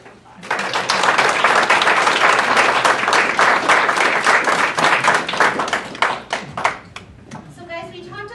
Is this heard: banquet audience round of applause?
yes